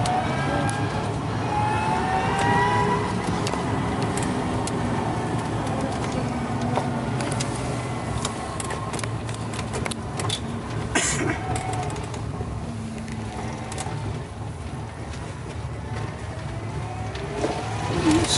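An electric ZEV T3 pickup trike accelerates uphill, its motor giving a steady, fairly loud whine and road rumble that holds throughout, with faint bird calls in the background.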